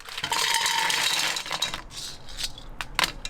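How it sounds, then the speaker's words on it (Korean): Rinsed mussels poured into a cooking pot for mussel soup, a loud rattling cascade of shells clattering against the pot, then settling into a few scattered clinks. "먼저 이제 홍합을 갖다가 이 냄비에다가 이렇게 부세요."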